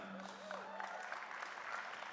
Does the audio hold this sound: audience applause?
yes